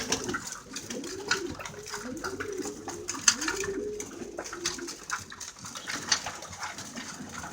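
Young pigeons feed after a morning flight in a loft, giving repeated low cooing calls mixed with light pecking, rustling and wing flutters, close and moderately quiet.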